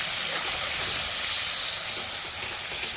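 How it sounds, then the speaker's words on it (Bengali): Onions and capsicum fry in a pan and give off a steady, loud, close hiss and sizzle for the whole clip. No one speaks. "প্রথমে পেঁয়াজগুলো দিয়ে দিতে হবে, তারপর ক্যাপসিকামগুলো হালকা করে ভেজে নিতে হবে।"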